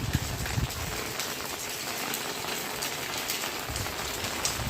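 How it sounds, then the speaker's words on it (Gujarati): Light rain falls outdoors, producing a steady, soft patter of drops on surfaces that stays even and continuous throughout with no other sounds. "અત્યારે તો ધીમો ધીમો વરસાદ પડે છે સરસ મજાનો."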